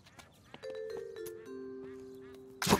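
Animated cartoon duck quacking in a series of nasal, drawn-out honking calls, followed by a sudden louder burst at the end.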